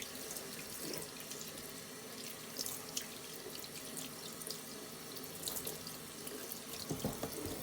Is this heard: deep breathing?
no